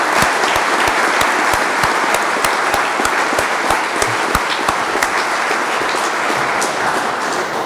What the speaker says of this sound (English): let's give a big round of applause once again for the people of Kansas City District